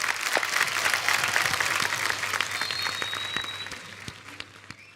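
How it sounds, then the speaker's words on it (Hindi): Loud burst of applause from a TV comedy show studio audience, many hands clapping densely, slowly tapering off over a few seconds. "जोरदार तालियां एक बार।"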